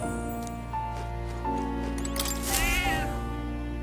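A cat meows a few times in the video game Metaphor: ReFantazio, with one longer rising-and-falling call near the end, over a steady sustained musical backing.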